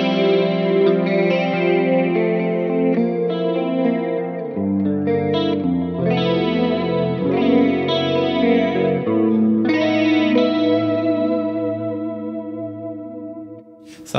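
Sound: electric guitar through Helix chorus patch without acoustic sim

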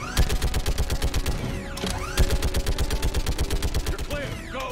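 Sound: gunfire from the video game Mass Effect 3

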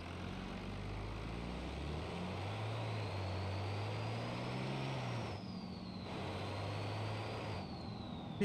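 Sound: turbocharged truck engine in video game BeamNG.drive

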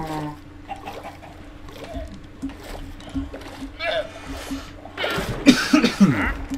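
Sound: cough

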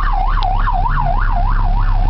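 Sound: emergency vehicle siren to get through a crowd

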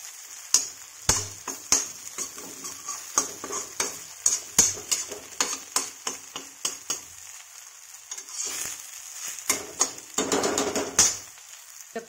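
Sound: kulth daal faanu frying in a pan

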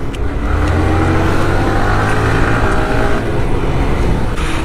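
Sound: motorcycle accelerating on the road

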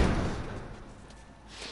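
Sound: door being barricaded, from The Last of Us video game

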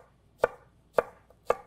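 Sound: knife slicing cucumber on cutting board

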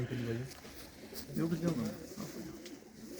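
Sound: pigeon cooing, female Chinese pigeon

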